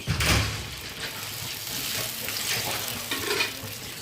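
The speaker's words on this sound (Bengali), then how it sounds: "গ্রাইন্ড করে রাখা আছে চার মগজ পোস্ত কাজু এবং কিশমিশ আচ্ছা এটা আমি কিন্তু এখানে ঢেলে দিচ্ছি" A ground paste of melon seed, poppy seed, cashew and raisin is poured into a hot pan for Kashmiri shahi paneer, giving a soft, steady sizzle with light stirring scrapes throughout.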